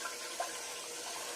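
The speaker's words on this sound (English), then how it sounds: "I'm rinsing my hand off." Tap water runs steadily over a hand being rinsed, a continuous close hiss with a couple of faint splashes and no talk.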